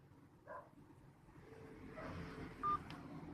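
Cellphone DTMF keypad tones sent to remotely switch channels on a radio repeater, a few brief electronic beeps over steady low background rumble, with a short sharp tone standing out near the end.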